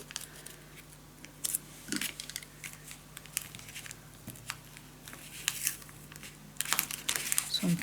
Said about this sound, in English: Sometimes my tape does not tear, but with a little muscles we can.